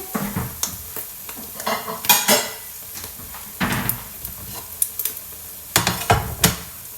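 A frying pan is pulled out among other cookware for Thai scrambled eggs: a string of sharp metallic clanks, knocks and rattles, some louder than others, spaced unevenly and heard close up without speech.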